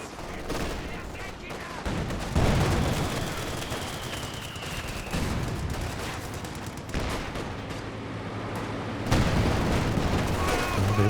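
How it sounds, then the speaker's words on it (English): Werfer rocket artillery barrage in the Company of Heroes 2 video game, during a 2v2 battle: dense rolling bursts of explosions and gunfire, loud and continuous, with heavier booms near the start and at the end. "Big Werfer barrage nearly wiping out 2 units there"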